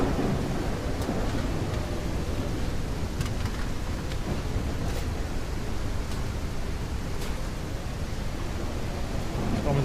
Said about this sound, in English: How loud is the storm?